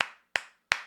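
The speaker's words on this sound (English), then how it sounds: "Everybody clap it up, man." Three sharp, evenly spaced claps ring out in quick succession, crisp and close, each snapping hard and fading fast.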